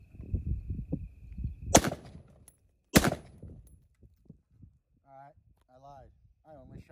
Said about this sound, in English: I'm gonna send 3 shots at the brick wall